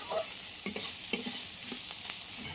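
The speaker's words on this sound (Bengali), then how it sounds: "পেঁয়াজটা আমার ভাজা হয়ে গেছে আদা রসুনের সঙ্গে।" Onion fries with ginger and garlic in a pan for a fish-head lentil dish, giving a soft steady sizzle with a few quick stirring scrapes and taps; no voices.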